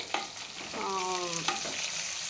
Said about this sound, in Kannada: ನೆಕ್ಸ್ಟು ಈರುಳ್ಳಿ ಹಾಕೊಳ್ಳೋಣ.